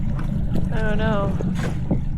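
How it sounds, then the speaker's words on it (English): A boat cruises along the shoreline in the Broughton Archipelago of British Columbia, its low engine rumble and wind buffeting steady throughout, with a brief voice and tonal sound rising over it midway. "we're just going to cruise the shoreline and see what we can find"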